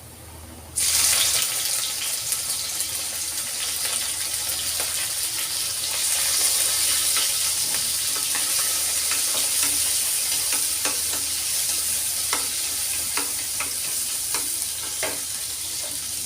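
Shrimp and garlic stir-fry loudly in a hot pan of oil, a dense, steady sizzle with scattered crackles and pops that runs unbroken and close for the whole stretch, with no talk over it.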